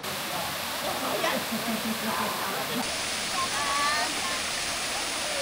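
A waterfall at a Thailand campsite rushes steadily as a broad, continuous roar of falling water, loud and even throughout, with faint voices briefly audible beneath it.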